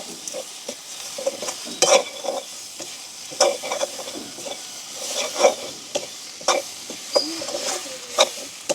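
Garlic, ginger, cinnamon and cardamom fry in a pan while being stirred, giving a continuous close sizzle with frequent scraping clinks of the spoon at irregular intervals, and no voices.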